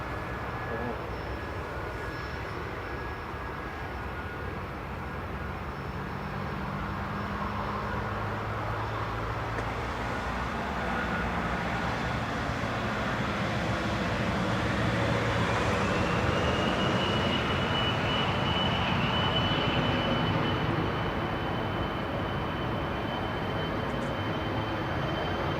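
A Loganair ERJ 145 regional jet departing runway 05 left at Manchester Airport, a broad, steady engine roar with a rising whine that swells and holds at a distance over nearly half a minute.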